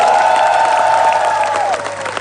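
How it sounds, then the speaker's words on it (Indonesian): Loud applause and crowd noise from a roasting comedy battle audience, a dense burst of clapping with a sustained tonal hum running through it that bends near the end. "Tepuk tangan."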